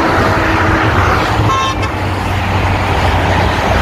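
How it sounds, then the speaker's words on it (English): Vehicles rush past on a busy roadway beside a hiking trail in Maryland, a loud steady roar of traffic with a short horn toot rising briefly above it midway. "I got people honking and waving at me."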